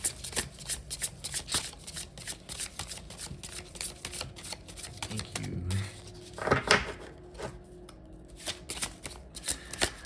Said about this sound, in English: I'm gonna pull a dragon card, and I'm gonna pull 3 cards to assist with this reading